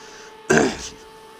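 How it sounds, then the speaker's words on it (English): A single short, gruff throat clearing from a race commentator, close to the microphone, over a faint steady electrical hum. "clear my throat there"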